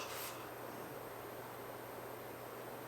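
Air purifiers running indoors give off a steady, even whooshing hum with a low drone underneath, unbroken and moderately loud throughout.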